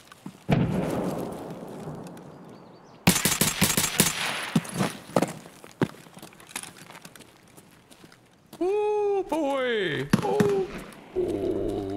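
Gunfire from Escape from Tarkov, including a thermal-scoped SVD, comes as loud bursts of rapid shots mixed with heavier explosive blasts, followed by ringing whistle-like tones, with players talking throughout.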